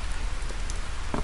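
Steady rain falls throughout in the farming game Harvest Moon: Save the Homeland, a constant dense hiss with a few brief droplet patters near the end, no voices.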